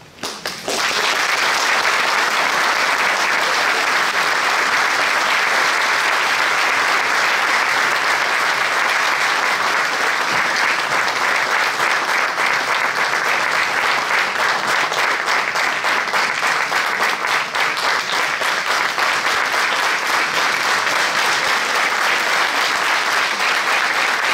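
A packed hall bursts into loud, continuous applause at Valérie Pécresse's political rally in Franconville. It starts abruptly and holds at full strength for more than twenty seconds without letting up.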